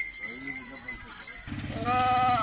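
Dairy goats bleating on a farm, a few wavering calls near the microphone with a louder, sustained bleat at the end, under faint voices.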